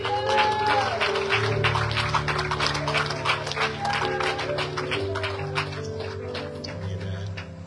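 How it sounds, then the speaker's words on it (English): Church congregation clapping hands in praise, a brisk rhythmic round of claps under sustained musical tones, fairly loud and steady before easing slightly toward the end. "Give God a hand clap."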